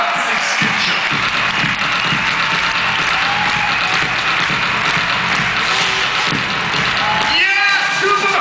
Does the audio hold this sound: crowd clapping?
yes